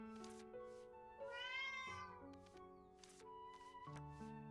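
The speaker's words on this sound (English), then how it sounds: "You're another new kitty!" Cat meowing in the Little Witch In The Woods video game, a few soft, clear meows sounding alone over a steady, gentle musical backdrop.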